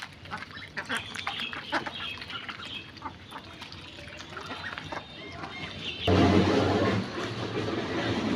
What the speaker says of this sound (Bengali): শামুক পেয়ে হাঁসগুলো কীভাবে খাইতেছে দেখেন